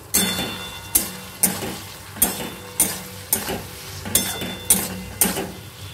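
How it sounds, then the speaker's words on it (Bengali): A spiced chilli soybean mixture with black pepper is stirred in a pan, with a spatula scraping in regular rhythmic strokes, about ten sharp scrapes over a soft continuous sizzle. "এবার এটাকে ভালো করে মিক্স করে নেব।"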